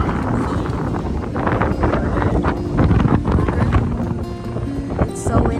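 Strong gusting wind buffets the microphone beside a hotel pool in Kona, Hawaii, a loud continuous roar with surging bursts. Faint voices are heard beneath it.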